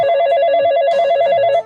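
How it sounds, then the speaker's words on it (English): A telephone rings clearly in a radio studio, a sustained electronic bell-like trill that repeats evenly for a moment before cutting off, with no talking over it. "Come on, make my phone ring."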